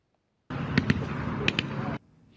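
Gunfire and artillery from war footage at the front in the Russia-Ukraine war, sounding as one dense rumbling burst with a few sharp cracks inside it, starting abruptly and cutting off after about one and a half seconds.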